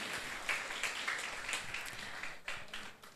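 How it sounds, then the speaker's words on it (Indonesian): An audience claps for the organising chairman at a school workshop on drug-abuse prevention among students, a scattered patter of hand claps from a modest crowd, fairly faint and tapering off toward the end. "Kita berikan aplaus yang semangat untuk Ketua Pelaksana Abdul Rashid SPDI"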